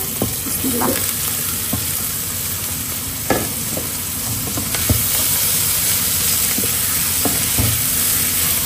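Finely chopped beetroot frying in a pan, a loud continuous sizzle and hiss up close, broken by scattered stirring clicks and scrapes throughout.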